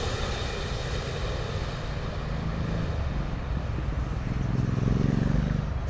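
A British Airways Boeing 777-200 lands at London Heathrow, a continuous broad jet engine roar that swells slightly toward the end, with some wind buffeting on the microphone.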